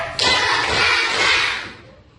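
A primary school class clapping in unison in a short patterned sequence, a loud burst of many hands that holds for over a second and then tapers into quiet.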